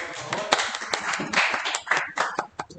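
Scattered hand claps from an audience at a church youth pastoral care talk, a short uneven burst of applause for a group, moderately close.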